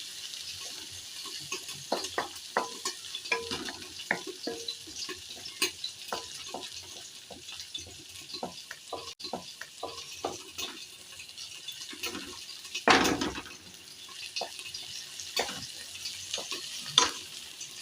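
Ginger and chili sizzle and crackle in a hot pan with oil, a steady close frying hiss broken by repeated spatula scrapes and stirring clatters, with no talking over it.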